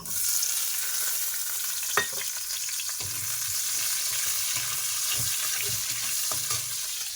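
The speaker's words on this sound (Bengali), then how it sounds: "গ্যাসের ফ্লেমটাকে একটু বাড়িয়ে দেবো পেঁয়াজ কুচি দিয়ে দেবো" Chopped onion and Pangasius fish fat frying in a pan over a raised gas flame, a close, steady sizzle broken by scattered clacks of a stirring spoon, with no voices.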